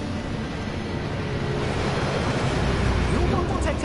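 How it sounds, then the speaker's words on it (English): A waterfall in the Gringotts vault in the Hogwarts Legacy video game gives a steady, loud rushing roar of falling water that fills the whole stretch. "That waterfall washes away all enchantment."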